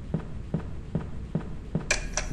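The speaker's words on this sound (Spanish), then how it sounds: "¿Este es el sonido de los pasos?" Evenly paced footsteps in the horror video game Broken Dreams, five soft, regular thuds over a steady low background hum, followed by a couple of brighter clicks.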